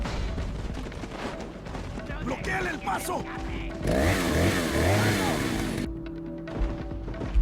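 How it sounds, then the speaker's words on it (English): Chainsaw-wielding enemy in Resident Evil 4 gameplay, a dense roaring engine drone that swells loud in the middle of the stretch amid game noise and impacts, with a voice talking over parts of it. "I don't remember meeting a chainsaw man in this place."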